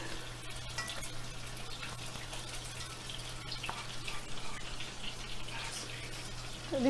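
Floured red snapper fish pieces frying in a pot of hot oil for Jamaican brown stew fish, heard as a steady, moderately quiet crackling sizzle with a low hum underneath and no talking.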